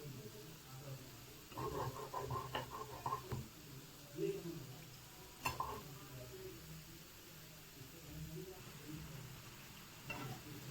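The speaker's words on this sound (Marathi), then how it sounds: "याच्यामध्ये आपण आता जामुन फ्राय करून घेऊया।" Gulab jamun frying in hot oil: a faint, steady bubbling sizzle with scattered soft clinks and stirring touches, heard at a distance under a low room hum.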